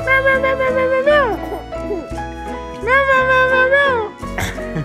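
A person's voice imitates a cat, with two drawn-out, loud meows close by, repeated with falling pitch, in a morning setting beside a baby.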